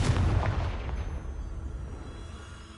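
A fiery Confringo spell blast in Hogwarts Legacy lands as a loud, booming explosion with a deep rumbling low end that decays and rolls away over a few seconds, alone with no talk.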